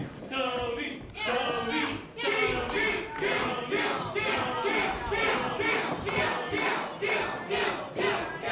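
A wrestling crowd chants and cheers in loud rhythmic bursts, roughly one per second, shouting in unison throughout, with the voices of a packed live audience filling the hall.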